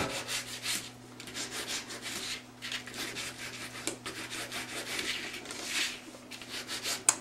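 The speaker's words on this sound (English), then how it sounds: "I like to do it with sandpaper." Sandpaper rubs back and forth along the edges of a faux hammered metal hinge, a steady scratchy rasping in repeated strokes, close and fairly quiet, with no voices.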